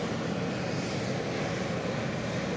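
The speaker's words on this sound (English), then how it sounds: "an Embraer 190 standard, 14 years of age, going where you'd expect it to really, with a KLM tail fin departing from Edinburgh" A 14-year-old KLM Embraer 190 jet departs Edinburgh for Amsterdam, giving a continuous distant roar of engine noise, even and unbroken, with no talking.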